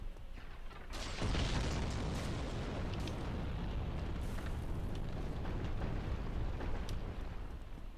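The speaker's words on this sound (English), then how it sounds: "That explosion's very loud." Loud, continuous explosions rumble in the Dark Souls video game, opening with a sudden blast and then carrying on as a dense roaring burst with no one talking.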